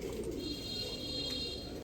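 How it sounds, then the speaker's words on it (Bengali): A pair of short face pigeons coo softly, the sound sitting close and low under a steady background hum. "এক পেয়ার শর্ট ফেস কবুতর"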